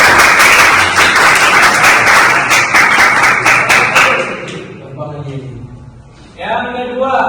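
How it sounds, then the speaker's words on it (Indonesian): A class claps for a group's anti-bullying poster, with dense, loud applause for about four seconds before it thins out and a voice begins speaking. "Oke, kasih tepuk tangan untuk tadi."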